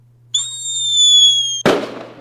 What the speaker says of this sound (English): With an added firework explosion at the end of it.